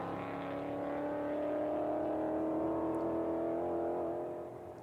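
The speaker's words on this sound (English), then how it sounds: "Just hitting the rev limiter by the sound of that" A Ford Mustang race car engine screams at high revs during a race at Virginia International Raceway, holding a strained, steady pitch as it bounces off the limiter, fading slightly at the end.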